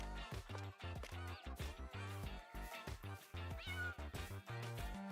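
A house cat in Farming Simulator 22 meows repeatedly at close range, its cries loud and insistent in quick succession with no talk over them.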